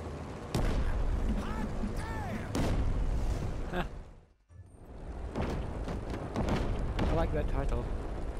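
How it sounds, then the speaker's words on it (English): Loud booming explosions and crashing rumbles from a plane crash in the video game Just Cause 3 roll on, briefly drop out, then return with more blasts and whining engine tones. "This plane must crash and it's gonna be a big explosion."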